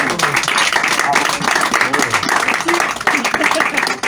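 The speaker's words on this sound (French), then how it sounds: "On peut l'applaudir" A theatre audience at a comedy hypnosis show claps in a ragged, lively burst, with voices and laughter mixed in over the applause.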